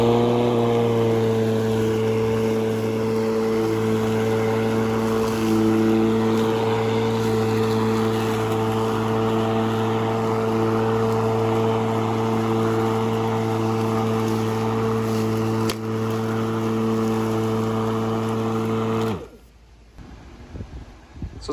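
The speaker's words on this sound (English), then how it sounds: "push the button and then pull the lever in and the mower will start up" Ryobi 18v PL100 cordless electric lawn mower spinning up and running close by, a loud steady motor hum with a strong tonal drone that holds evenly, then cuts off abruptly near the end.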